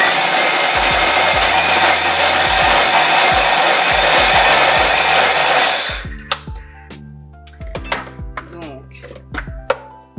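Blender mixing a lentil spread: a loud, continuous whirring motor for about six seconds, then stopping, followed by scattered knocks and handling clatter.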